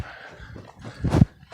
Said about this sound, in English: Stray dogs.